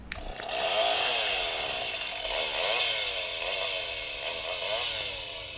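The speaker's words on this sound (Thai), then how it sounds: "อันนี้เจ๋งสุดครับเสียงเลื่อยไฟฟ้า" A buzzing chainsaw effect plays from the small speaker of a Mezco Leatherface toy, a continuous revving drone that wavers in pitch for several seconds.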